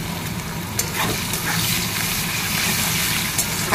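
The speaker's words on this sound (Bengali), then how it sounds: "কড়াই তেল গরম হয়ে গেছে, পেঁয়াজগুলো দিয়ে দিই" Chopped onions fry in hot oil in a wok, the start of a Bengali katla fish kalia, giving a steady, close, dense sizzle that runs unbroken throughout with no voices.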